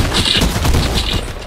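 Rapid gunfire in a multiplayer shooter video game, a dense continuous volley of shots filling the whole moment, loud and close with no talk over it.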